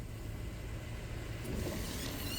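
A Toyota driving off on light throttle with A-TRAC engaging, heard as a steady low engine and drivetrain rumble close by that rises slightly, with no talk over it.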